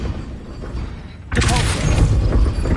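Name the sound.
Wingardium Leviosa spell effect in Hogwarts Legacy video game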